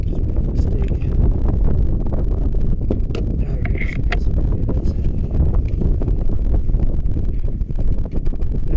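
Strong outdoor wind buffets the microphone continuously, a heavy low roar with gusty rumbling and occasional faint clicks, loud and close throughout.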